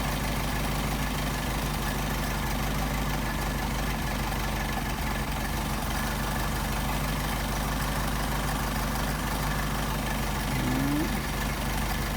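A car engine fitted with Solex carburetors idles low and steady during tuning, a continuous even rumble with a faint sound near the end.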